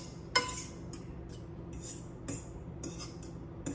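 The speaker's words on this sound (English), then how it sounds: "I scramble my egg in the pan." A single egg scrambled in an olive-oiled skillet, with a utensil clinking and scraping against the pan in irregular strokes over a steady low sizzle, close and moderately loud, with no talking.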